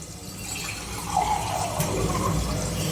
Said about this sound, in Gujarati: તો આપણે થોડું પાણી નાખવાનું.